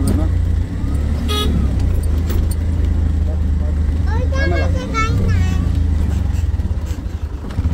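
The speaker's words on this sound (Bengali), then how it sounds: "গাড়ি তো আসছে চলো না" A car comes along a road on the way to Nine Arches Bridge in Ella, its engine droning low and steady up close, with short horn toots and people talking over the traffic noise.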